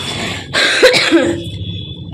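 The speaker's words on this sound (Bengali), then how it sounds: "আমার না জোর ঠান্ডা লেগে গেছে, জোর কাশি হচ্ছে" A single harsh, close cough, sharp and loud, followed by a brief throaty trailing sound.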